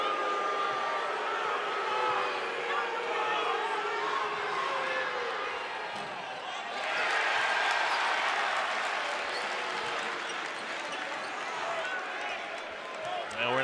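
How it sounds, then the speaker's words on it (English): Basketball arena crowd at a Xavier game during a TBT broadcast, voicing displeasure at a call: a dense roar that swells louder midway, with a commentator talking over it throughout. "There's a reason, a good reason, why the crowd is so upset with that call."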